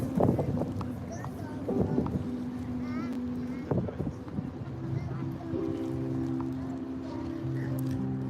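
Wind gusts at a waterfront, a broad rushing noise buffeting the microphone, with people talking over it.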